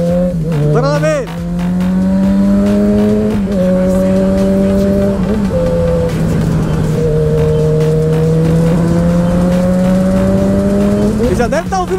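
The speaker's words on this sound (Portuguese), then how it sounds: "Ele já deve estar ouvindo o barulho da moto já" A Yamaha XJ6 motorcycle engine revs loud and close, its tone climbing and holding in long sustained pulls with brief dips between gear changes, a strong steady roar for the whole stretch.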